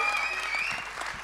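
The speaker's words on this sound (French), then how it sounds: "Applaudissez-la." An audience applauds a performer on stage at a French music show, a continuous soft wash of clapping with a sustained tone lingering in the background.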